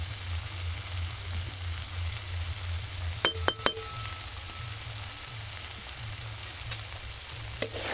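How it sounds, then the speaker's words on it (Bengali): Ginger, garlic and tomato sautéing in a pan give a steady, close sizzle throughout, with a few sharp metallic clinks of a utensil against the pan. "দেখুন এখানে আদা রসুন আর টমেটোটা কিন্তু ভালোভাবে কষানো হয়ে গেছে।"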